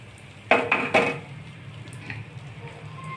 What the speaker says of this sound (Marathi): सगळं एकत्र परतून घेणे.